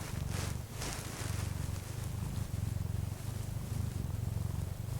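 A pet cat purrs up close in a steady low rumble, quiet and continuous, with a faint rustle over the top.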